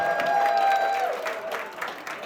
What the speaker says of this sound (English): Round of applause for Alicia, guys.